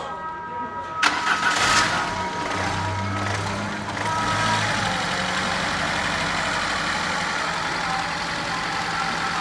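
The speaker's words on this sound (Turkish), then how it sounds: "Aracımıza marş yapıyoruz." A Renault Laguna II 2.0 engine, newly rebuilt, cranks briefly, catches, and settles into a steady idle that keeps running, close by and fairly loud.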